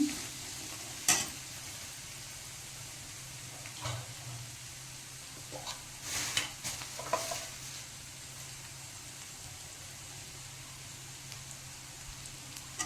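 Gobi fried rice with red chilli paste frying in a pan, a steady soft sizzle running throughout with a few brief stirring clinks and scrapes, no talking.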